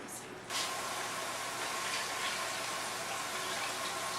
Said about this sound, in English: I'll be putting in 4 cups of vegetable broth and 2 cups of water.